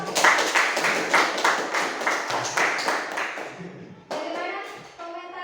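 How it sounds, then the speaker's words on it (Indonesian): A classroom group is applauded with rhythmic clapping, several quick loud rounds of claps that stop after about four seconds, followed by brief voices. "Tepuk tangan untuk kelompok."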